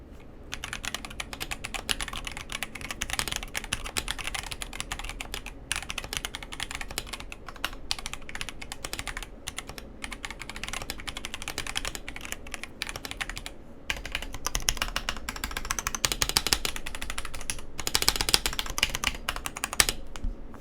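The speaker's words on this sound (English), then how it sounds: "this is KBDfans KBD67 Lite round 2 with linear yellow switches from Gateron." Rapid, continuous typing on a KBDfans KBD67 Lite R2 mechanical keyboard fitted with Gateron yellow linear switches, close up with dense clacking keystrokes and occasional brief pauses, without speech.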